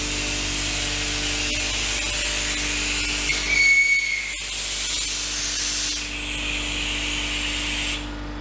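Compressed air hisses steadily through the air line of a CNC plasma table fitted with a Quincy refrigerated air dryer, a broad continuous rush that shifts in tone partway through and then cuts off near the end.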